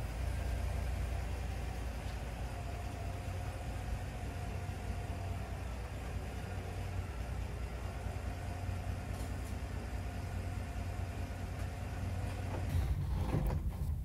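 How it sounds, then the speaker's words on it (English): A Chevrolet Silverado ZR2 Bison pickup runs in a backyard, its engine holding a steady, close low drone at near-idle throughout, with a faint clunk and stir of movement toward the end. "I'm going to put the rear tire back on, take it in the backyard, and run it up my RTI ramp"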